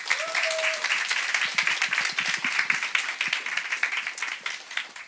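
Church congregation breaking into sustained, dense applause welcoming a guest speaker, steady clapping throughout with a brief tonal whistle near the start.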